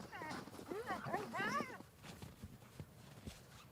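A Greenland sled dog whines and yelps in a few rising, wavering cries during a rest stop on a journey across sea ice, close by, followed by quieter shuffling sounds.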